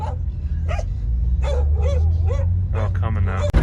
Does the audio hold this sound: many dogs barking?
yes